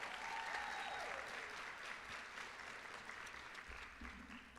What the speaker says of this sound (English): If you guys can please give them a round of applause